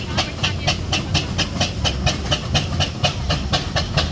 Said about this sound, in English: So that's Steve Hawkins' road roller named George.